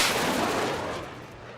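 Torpedoes launched at a UFO in the Xenonauts 2 strategy game give a loud, dense broadband blast that rolls on for over a second and slowly fades, with no talk over it.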